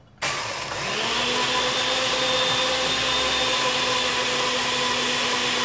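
A countertop blender crushes ice for a frozen sake and watermelon drink, its motor kicking on abruptly and then holding a loud, steady whir close by with no talking.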